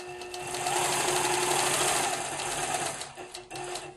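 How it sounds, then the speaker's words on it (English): A long-arm quilting machine stitches a pumpkin seed pattern in a continuous, moderately quiet hum that dips briefly near the end. Nobody speaks. "I have been machine quilting on a long arm machine"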